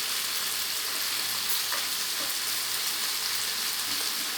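Tomatoes and onion with cashew nuts cooking in a pan on a stove for egg gravy, a steady close sizzle and fry hiss running continuously without any talk.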